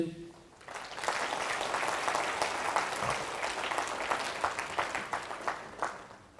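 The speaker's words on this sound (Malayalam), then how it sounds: "ഒന്ന് കൈ ഉയർത്തി കൈയടിച്ച്" A church congregation claps hands in praise, starting after a brief pause and building into steady, fairly rhythmic applause from many people, with sharper individual claps standing out toward the end.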